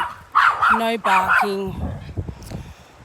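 Several sharp, loud dog barks in quick succession, close by, followed by quieter rustling and faint background noise.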